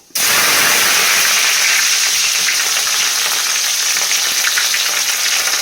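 Fenugreek seeds fry in hot oil with a constant loud, dense sizzle and crackle that starts abruptly and holds steady throughout, with no voices.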